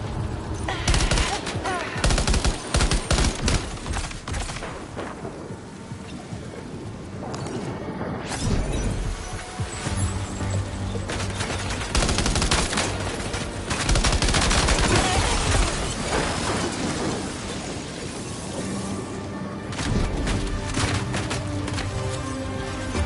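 Gunfire from the video game Death Stranding, loud and sustained: dense volleys of shots with crashing impacts roll on almost without pause, easing briefly now and then, with occasional voices mixed in.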